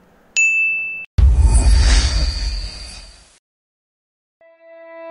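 A bright bell ding rings out once, clear and close, followed by a whoosh and a swell of music.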